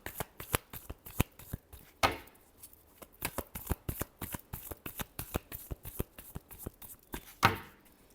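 Tarot cards are shuffled by hand in a steady run of crisp, riffling flicks and taps, close and fairly quiet, with no voices.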